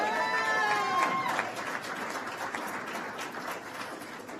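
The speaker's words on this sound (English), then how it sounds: "I think that deserves a round of applause." An audience applauds during a moderated conversation with Vice President Harris, with steady crowd clapping sustained throughout and a brief tonal sound near the start.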